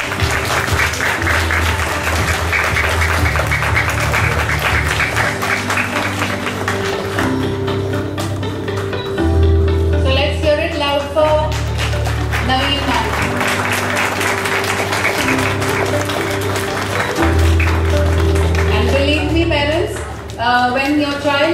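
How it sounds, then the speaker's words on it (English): Loud, sustained applause from parents at a school orientation for second-grade classes, a dense wash of clapping running throughout under steady background music or voices. "So I think she really deserves a loud applause."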